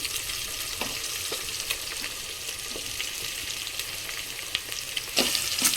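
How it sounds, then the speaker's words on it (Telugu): Beaten egg fries in oil during pudina egg pulao cooking in a pressure cooker, a continuous close sizzle broken by occasional scraping clicks of stirring. "గుడ్డు ఆయిల్లో ఫ్రై అవుతుంది కాబట్టి మంచిగా ఉంటుంది"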